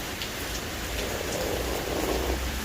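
Steady rain falls throughout, a dense, even hiss of drops pattering on surfaces with no voices.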